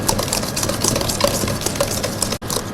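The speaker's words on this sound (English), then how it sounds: "Now all I have to do is cream, butter and sugar together." Butter and sugar being creamed together for an eggless mango crumble trifle give a constant whirring, scraping noise with small clicks, close and even, briefly cutting out near the end.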